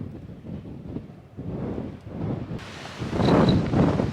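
Strong gusty wind roars against the microphone in surging waves on a canyon trail in Guadalupe Mountains National Park, building louder toward the end with deep rumbling buffeting.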